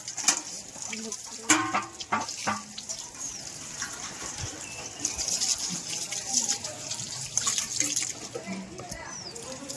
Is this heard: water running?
yes